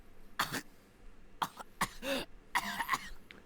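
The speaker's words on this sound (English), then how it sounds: "Just then, Satoshi started coughing" The character Satoshi coughs in the horror video game Corpse Party, with several separate harsh, close coughs and throat-clearing bursts spread out, the last few coming in a quick cluster.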